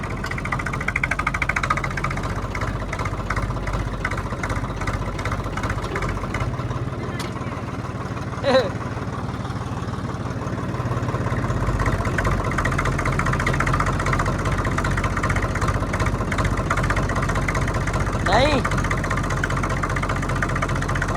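A low, steady Swaraj tractor engine idles nearby for the whole stretch, a continuous rumbling drone with a couple of brief clanks and faint voices in the background.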